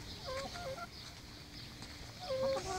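A pet chicken gives faint, short clucks, with a couple of brief bursts early on and another near the end over quiet background.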